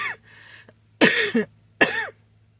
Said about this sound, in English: don't know where this cough came from.